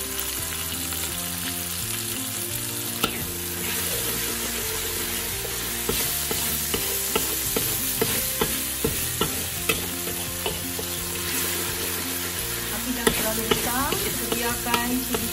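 Chili sambal frying in a pan as it is stirred: a continuous sizzle under repeated scraping and clinking of a spatula against metal, steady and close for the whole stretch, with no speech.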